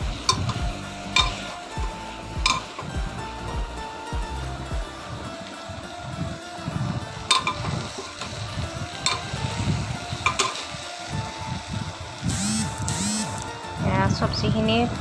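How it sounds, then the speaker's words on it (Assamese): Vegetables with potato being stirred and fried in a pan, a steady sizzle under intermittent scraping strokes of a utensil, with a person talking over it throughout. "আৰু দি পেলাই অলপ সময় ভাজি ল'ম।"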